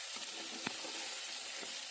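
Eggplant frying in a pan, a soft even sizzle with a faint stir or tap now and then, quiet and close with no one speaking.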